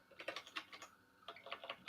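Fast, light tapping on a computer keyboard, close and quiet, in two short bursts of keystrokes separated by a brief pause, with no talking.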